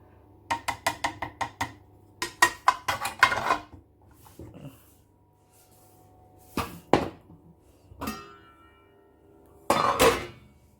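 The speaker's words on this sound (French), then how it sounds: "Je vais verser tout ça dans la marmite." Ingredients for a Korean spicy chicken stew tipped and scraped into a cooking pot, a run of quick sharp clinks and knocks followed by scattered separate clatters and a final burst, fairly close with quiet gaps between.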